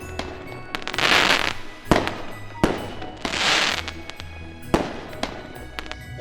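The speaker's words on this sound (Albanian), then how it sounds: "Fishek zjarret mua më sjellin një si kënaqësi dhe ngjyrat e tyre domethënë janë një mbarësi për vitin që vjen." New Year's fireworks burst in loud, crackling explosions, several separate blasts with sharp pops and sizzling tails, close by and heard alone without talk.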